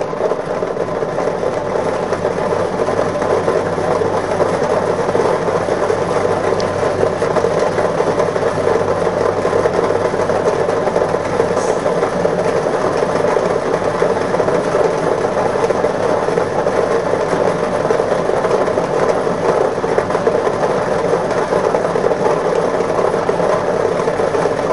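Lottery draw machine churning its numbered balls, a loud continuous whirring rumble with a steady mechanical texture that holds without pause.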